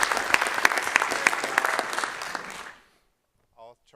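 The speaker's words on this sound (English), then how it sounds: "deserves a big hand of applause" Applause from the audience at a physics conference session, a dense burst of clapping lasting under three seconds before cutting off, followed by a short moment of quiet.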